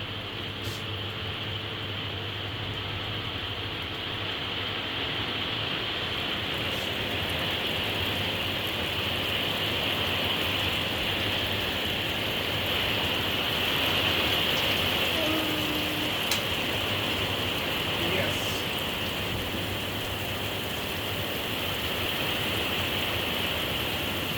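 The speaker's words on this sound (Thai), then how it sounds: "ฝนตก จะได้รอให้ฝนสาย" Steady rain falls in Norway with a constant, even hiss, joined by a faint high insect-like drone and occasional soft knocks in the background.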